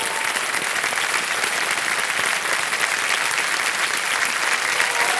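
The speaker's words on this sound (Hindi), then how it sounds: "तालियां बज जाए इनके लिए." Studio audience applauding on the Kaun Banega Crorepati quiz show: loud, full, continuous clapping from a large crowd, holding at an even level for five seconds without speech.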